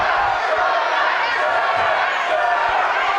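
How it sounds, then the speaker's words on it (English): A crowd at a Budo Fights bout between Allen Washington and Sean Soliz roars and chants 'Sugar', a steady, loud wall of massed voices that holds throughout. "The crowd is yelling sugar."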